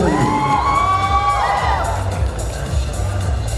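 A crowd at a model hunt show finale cheers and whoops loudly for a runner-up while stage music plays underneath, the noise sustained and close throughout.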